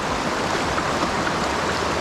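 River water rushing steadily as a broad, even wash of flow, close and continuous with no voices.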